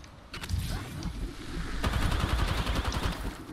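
Rapid automatic gunfire from Apex Legends rattles in quick bursts, a dense string of close, sharp shots that thickens into a sustained volley, with no talking over it.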